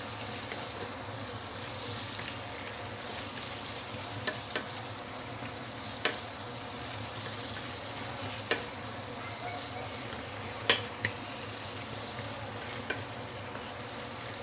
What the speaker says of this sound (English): I'm going to put in my half-cooked prawn. Up the fire a little bit. Give it a few stir.